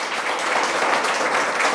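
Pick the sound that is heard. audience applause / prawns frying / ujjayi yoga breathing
audience applause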